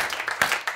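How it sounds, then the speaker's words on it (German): Studio audience applauding on a talk show, a close burst of clapping with uneven, distinct hand claps that give a choppy, pulsing rhythm. "Applaus."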